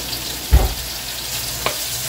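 Onions and garlic fry in hot oil with a constant close sizzle, and two short scraping stirs break through it, the first louder than the second.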